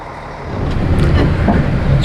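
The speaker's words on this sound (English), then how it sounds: "Funicular ride." Vehicle rumble on a funicular ride in Mazatlan, Mexico: a steady low engine and road drone that swells slightly after the first half second, with faint brief knocks and wind hiss over it.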